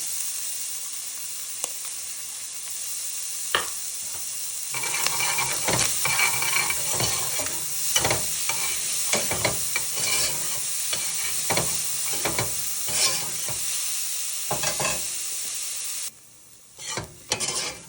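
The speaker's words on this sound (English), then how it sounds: "Into the pot is 1 whole onion." A whole chopped onion sizzles and crackles steadily in a pot after sausage has been cooked in it, with frequent stirring scrapes and clinks throughout, and a brief drop near the end.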